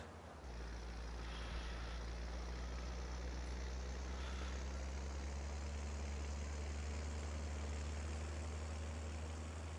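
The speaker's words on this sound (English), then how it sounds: "That Oliver tractor sounds like a mean" An Oliver tractor engine in Farming Simulator 22 runs steadily with a low, constant drone that holds at the same loudness throughout, with no talk over it.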